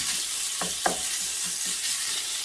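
Ground beef fries in oil in a pan with a steady, bright sizzle, joined by a few quick scraping strokes of a utensil near the start, close up and with no speech.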